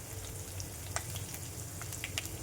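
Garlic, curry leaves, fenugreek seeds, green chilli and crushed ginger sizzling in hot oil for a tempering, a soft, steady close frying hiss with scattered small pops and crackles.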